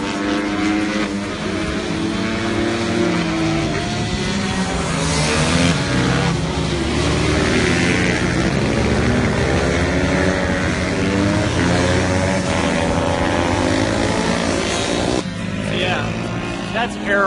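Mini GP minibike race, a KX65-powered bike running among Honda 150R four-strokes, several small engines buzzing and shifting pitch together, steady and close throughout with wind noise.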